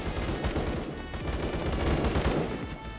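Rapid, dense gunfire in the Phantom Forces shooter game: a loud, continuous burst of automatic shots layered together for the whole stretch, close and harsh, with no speech.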